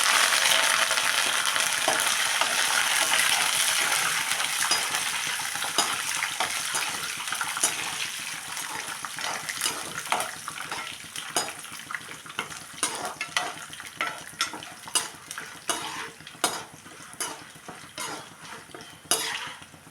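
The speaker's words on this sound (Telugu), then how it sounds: "ఇప్పుడైతే ఎండుమిరపకాయలు, కరివేపాకు కూడా వేసేసుకుంటున్నాను." Dried red chillies and curry leaves crackle and sizzle in hot oil for a tempering, a dense steady frying hiss that thins into sharper, spaced pops and spatters near the end, with occasional spoon stirring against the pan.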